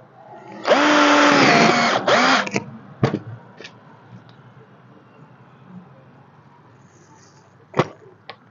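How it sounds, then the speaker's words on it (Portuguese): A power screwdriver drives a screw into a tyre in a short rising whine lasting over a second, then a stuttering burst, followed by a few brief clicks and taps against quiet background. "é a hora de eu parafusar pra ele não voltar mais"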